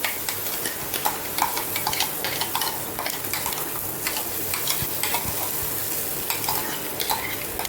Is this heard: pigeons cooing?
no